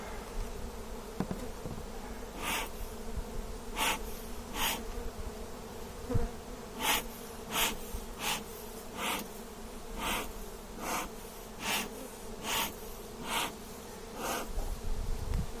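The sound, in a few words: honey bees buzzing during varroa mite test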